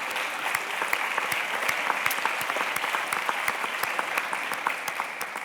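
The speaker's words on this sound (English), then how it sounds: "So a round of applause also for them." Audience applause at an award ceremony, steady dense clapping with sharp individual claps standing out, moderately loud and continuous without voices.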